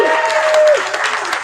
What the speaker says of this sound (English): can we get some round of applause for Amelia